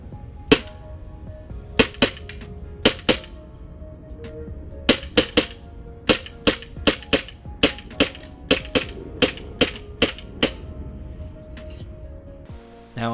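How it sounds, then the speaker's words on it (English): Tokyo Marui Glock 19 gas airsoft pistol firing BBs, a series of sharp snappy shots, about eighteen, some spaced apart and others in quick pairs and runs, each crisp and close over faint room noise. "I will now show you how many BBs it can fire on one filled gas mag."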